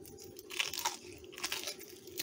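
A bite into a crunchy pecan-fried chicken wing glazed with cinnamon and brown sugar, giving a few close, crisp crunches and chewing sounds, fairly quiet.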